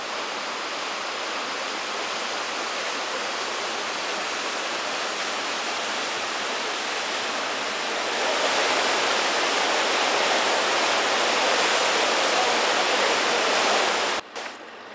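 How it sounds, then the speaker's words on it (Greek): Floodwater from a cloudburst in Feres, Greece, rushes in a steady, loud roar that swells slightly midway, a continuous wash of turbulent water with no voices, cut off abruptly near the end. "πως τόνισε ο αντιδήμαρχος Φερών Νίκος Γκότς, η ποσότητα του νερού ήταν τόσο μεγάλη με συνέπεια να πλημμυρίσουν ποτάμια και δρόμοι."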